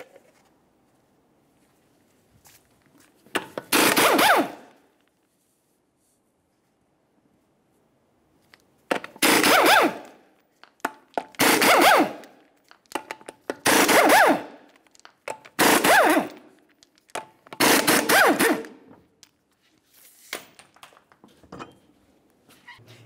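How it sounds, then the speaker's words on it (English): Six 19 mm lug nuts being spun off a car wheel with a power tool in repeated short bursts, each a loud whir of about a second separated by quiet pauses, ending with the wheel removal. "we'll continue on to removing the center cover, all six of our 19 millimeter lug nuts,"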